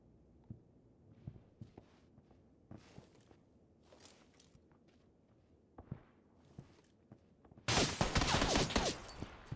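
Faint footsteps shuffle and tap in a video game shooter played on Xbox, then a sudden, loud, dense burst of gunfire erupts and keeps rattling steadily to the end.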